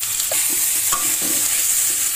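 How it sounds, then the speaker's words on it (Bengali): Potato pieces fry in hot oil with a pinch of salt and turmeric, giving a steady loud sizzle with light stirring scrapes and no talk. "এবার আমি আলুগুলো ভেজে নিব। সামান্য একটু লবণ আর একটু হলুদের গুঁড়া।"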